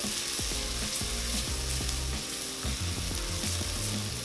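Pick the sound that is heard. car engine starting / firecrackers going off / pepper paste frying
pepper paste frying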